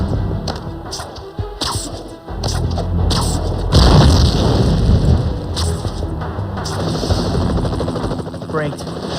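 Explosions and combat noise in the Spider-Man 3 video game on PS2, with loud booms and crashing bursts layered over helicopter-like rumble and game effects, all fairly close and continuous.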